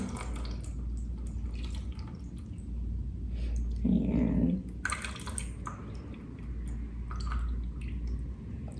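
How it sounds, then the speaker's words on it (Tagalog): Water is poured slowly into the tank of an Arctic Air Chill Zone air cooler, giving a short, soft splashing burst near the middle while a person speaks quietly nearby. "lagyan natin ng tubig kung saan yung max. Ayan. Ayan. Buhos mo na siya dahan-dahan."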